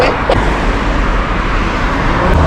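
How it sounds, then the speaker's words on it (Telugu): Cars stream past without a break on a road beside the Salmiya seafront in Kuwait, a loud, even wash of tyre and engine noise close by with a brief swell as one vehicle passes. "కార్లు అయితే కంటిన్యూస్గా వస్తూనే ఉన్నాయి."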